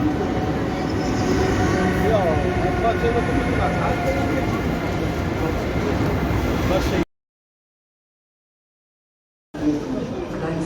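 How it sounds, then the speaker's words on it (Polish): A Vectron electric locomotive train arrives at Gdynia, rumbling steadily close by with squealing wheels and rattling carriages, then cuts out briefly before the rolling noise resumes. "Wjeżdża nasz skład do Gdyni, Vectron EP Cargo"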